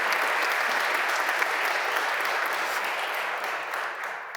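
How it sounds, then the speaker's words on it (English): A conference audience in Brussels gives steady, sustained applause at an industrial policy event, a full room of clapping that holds evenly and tapers slightly at the end. "Please give her applause before she has to catch her plane."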